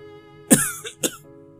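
Two short, sharp coughs a half second apart, close and fairly loud, with a faint steady hum underneath.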